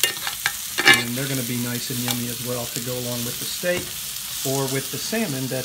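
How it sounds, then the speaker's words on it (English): Baby Bella mushrooms sauté in butter in a Le Creuset grill pan, a close steady sizzle with stirring scrapes running under a voice as he talks. "I just threw a little more butter in the pan, and then I'm kind of wiping the pan down with these mushrooms."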